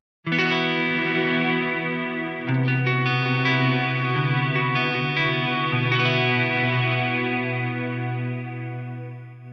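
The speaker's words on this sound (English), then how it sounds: "Modulated reverb is just gorgeous." Modulated reverb from an Eventide H9 pedal on guitar: a sustained chord rings out, then a second chord swells in, with lush, wavering shimmer and a long, slowly fading tail, no speech.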